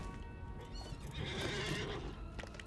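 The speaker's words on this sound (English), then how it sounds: "Let's get on the war steed." A war steed in Lord of the Rings Online gives a clear, prolonged neigh against soft hoof clip-clops, heard at moderate volume with no talking.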